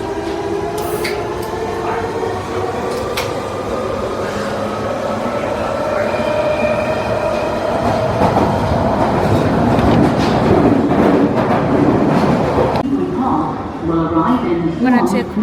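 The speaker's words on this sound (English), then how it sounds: "I'm gonna take my second train to where I'm going." A train rolls steadily along the tracks in London with a continuous rumbling roar and faint rhythmic clatter, heard from inside a carriage.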